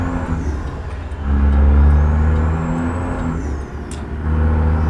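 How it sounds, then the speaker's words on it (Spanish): Dodge 900 truck engine in American Truck Simulator, a loud, close, rumbling drone that swells as it revs, then eases and climbs again, with a faint hiss of air, no voices. "Este motor suena a una belleza, una elegancia."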